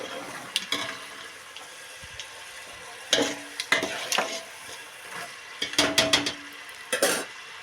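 Onions frying in hot oil in a home kitchen pan, with soft sizzling under bursts of stirring and clinking of a utensil against the pan, close and moderately loud, no talk.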